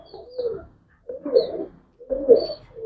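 Quality pigeons, male and female, coo close by in three soft, throaty, rolling calls separated by brief silences.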